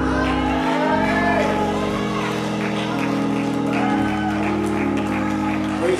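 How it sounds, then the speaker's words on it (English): A church congregation claps during worship, a steady wash of hand claps with scattered shouts and whoops over a sustained organ or keyboard chord. "Come on, clap your hands in here for that word"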